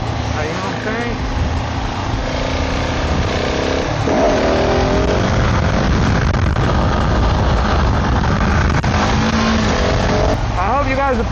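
A KTM 690 motorcycle engine roars during a wheelie, loud and close with rising revs and wind rush, while a rider talks over it throughout.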